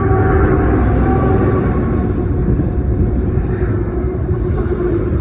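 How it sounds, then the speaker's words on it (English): CSX manifest and intermodal freight trains meeting and passing in Ashland, Virginia, a loud, steady broadband rumble of rolling freight cars that holds constant and close throughout, with no talk. "We have a manifest and an intermodal train."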